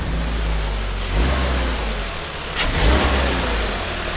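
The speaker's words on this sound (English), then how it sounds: "Kevin, give me a little revs here." A running engine in a $500 drift car that just received a new engine idles roughly and then rises in brief revs, loud and close, with no talking.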